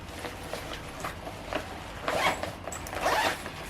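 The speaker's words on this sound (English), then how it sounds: "A zipper compartment here." A zipper is pulled open and closed on a compartment of a Ju-Ju-Be diaper bag, giving several short raspy strokes, the two louder pulls near the end, close up with no talking.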